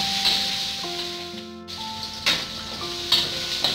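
Ingredients with a piece of crushed ginger drop into a hot pan and hiss in a soft, steady sizzle, with a few clinks and scrapes of stirring over low background music.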